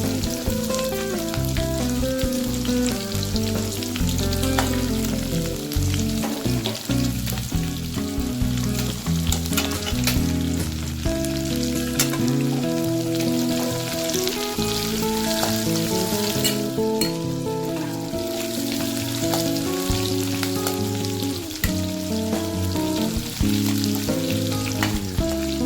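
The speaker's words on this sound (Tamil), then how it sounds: "வெங்காயம் நல்லா பொன்னிறமாக வதங்க வரைக்கும் வதக்கிக்குவோம்." Onions sauté in a pan until golden for a karunai kizhangu (elephant foot yam) tamarind curry. A continuous crackling sizzle runs for the whole stretch, partly under steady background music, with no talking.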